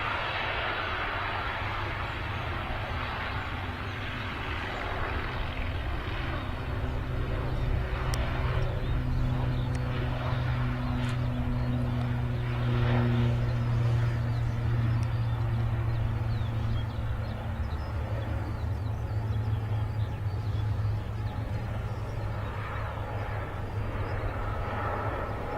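A Loganair ATR 72 turboprop rolls for takeoff at Manchester Airport, a steady droning engine hum with a rising, sustained tone that swells mid-clip then holds, heard from a distance.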